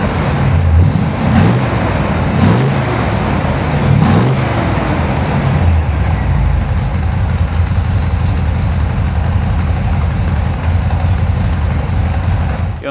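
A 1971 Chevrolet Corvette Roadster rumbles while driving, its engine note pulsing at first and then settling into a steady low drone under road noise.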